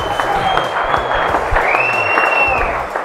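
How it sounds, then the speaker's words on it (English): Wedding guests clapping at a reception, a warm, sustained round of applause from a modest crowd, close and fairly loud, with some faint voices and a few whistle-like tones mixed in. "Another round of applause for Sammy, please."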